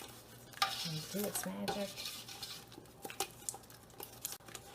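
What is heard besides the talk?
stirring peaches and sugar in a pot for jam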